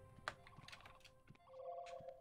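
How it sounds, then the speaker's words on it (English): A telephone rings in a video game, an electronic ringing tone that grows steadier toward the end, fairly faint amid other scattered game noises. "Someone's ringing the phone."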